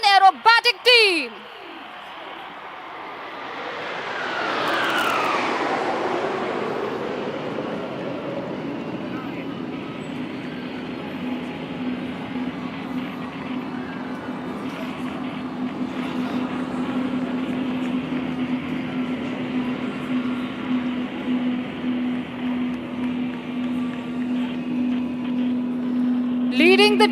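Suryakiran Aerobatic Team jets of the Indian Air Force at an air show, a jet roar sweeping past with a falling pitch, then a sustained distant rumble and steady hum under a public-address announcer's voice.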